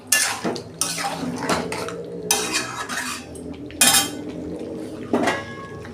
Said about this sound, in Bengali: আর একটু কষাতে হবে।